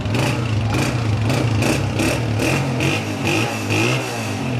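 A Honda 125 motorcycle engine revs loudly and repeatedly up close, with rhythmic bursts of throttle rising and falling over a steady rumble.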